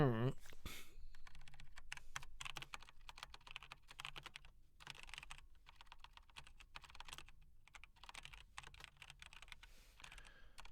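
Rapid, uneven clatter of keys on a computer keyboard, close by, with bursts and brief pauses; a short tone sounds at the very start.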